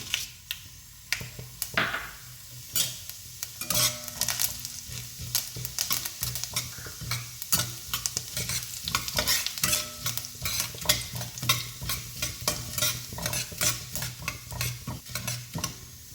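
Urad dal frying in oil with mustard seeds while a spoon stirs the pan, a steady close sizzle broken by repeated scraping clinks and crackles throughout, with no voice.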